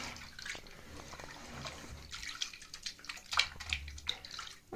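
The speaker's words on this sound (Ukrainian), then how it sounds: "Так, Наталя розмішує порошок у воді." Powder being stirred into water in a bowl set inside a bathtub, giving a steady close swishing and sloshing with small splashes and drips, no talking.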